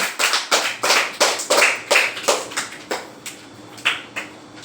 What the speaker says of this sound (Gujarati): જોરદાર તાળીઓથી વધાવી લો.